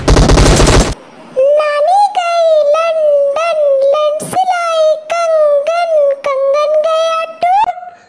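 In the video game PUBG on the Livik map, a DP machine gun fires in short, scattered bursts beneath a continuous tonal voice that runs through most of the clip.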